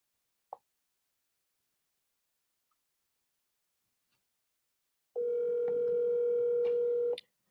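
A telephone on a commercial real estate cold call sounds a steady electronic tone for about two seconds after a long near-silence, preceded by a single brief click, clean and close as if through a headset.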